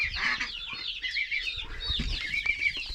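Several ornamental chickens cluck and chatter close by, overlapping bursts of cackling and soft calls continuing throughout.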